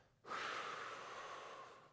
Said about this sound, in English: As I do this, I'm breathing out